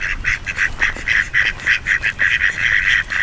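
Ducks quacking nearby in a rapid burst of repeated loud, nasal calls, several overlapping in quick succession throughout.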